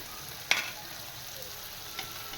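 Diced onion and capsicum fry in a pan with a continuous soft hiss, punctuated by one sharp spoon knock and a fainter second tap.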